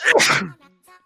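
A single sharp, loud sneeze bursts out close by, trailing off into a brief soft exhale.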